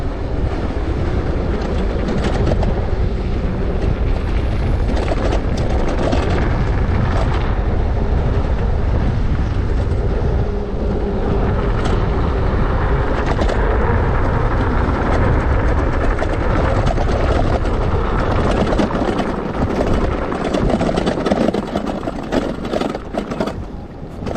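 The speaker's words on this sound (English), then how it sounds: "it's like basically I'm a rolling construction site. That's what my bike sounds like." An e-bike rattles and clatters loudly as it is ridden, making a dense, continuous roar of shaking parts that holds steady for the whole stretch with no talking.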